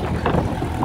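Riding aboard a large farm tractor, with a steady, rumbling engine drone and rushing wind noise blowing across the microphone throughout.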